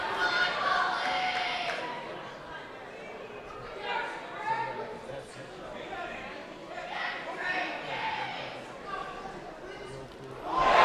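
A boxing crowd in Melrose, Massachusetts cheers and chants a fighter's name in rhythmic bursts, loud and busy throughout, with a commentator talking over the noise.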